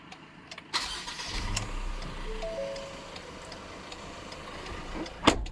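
A 2021 Ford Ranger XLT automatic pickup's engine cranks and catches, then settles into a steady low idle, with a faint ticking and a sharp click near the end.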